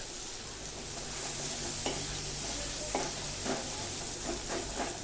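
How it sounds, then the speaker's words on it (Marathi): Steady, loud sizzling of onion frying in hot oil after a tempering, with a few scraping stirs breaking through at intervals; no voices. "कांदा छान परतून घ्यायचा सोनेरी रंगावर"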